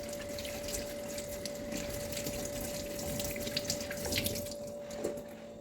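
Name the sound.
washing papaya under running tap water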